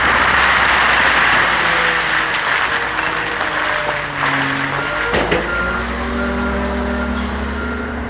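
A large payloader working on rock, its heavy engine droning loud and steady throughout, with a truck-style reversing beep and clanks of machinery mixed in.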